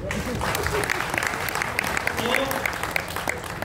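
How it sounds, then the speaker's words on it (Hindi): Audience applause at a gathering in Delhi, a dense steady patter of many hands clapping at moderate level throughout, with a voice speaking over it. "जोरदार ताली सर के लिए।"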